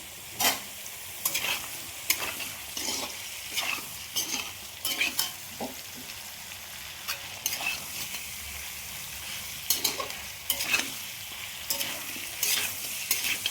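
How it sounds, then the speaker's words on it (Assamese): Vegetables including radish and carrot sizzle softly in a pan, broken up by scraping stirs every few seconds. No one speaks. "এইখিনি মই এতিয়া ভাজি আছোঁ।"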